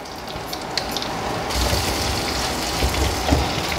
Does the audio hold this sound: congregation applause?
no